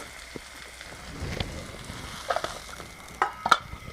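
Fried potatoes and eggplant for chorchori poured out of a hot pan, a faint crackling sizzle with scattered scraping clinks that grow louder toward the end.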